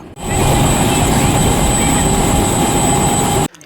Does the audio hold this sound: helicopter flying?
yes